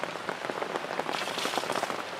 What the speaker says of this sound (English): Ready for this rain to stop.